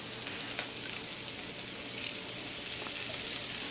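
Shrimp and broccoli fry in oil in a single pan, giving a steady, close sizzle and crackle that holds even throughout with no talking.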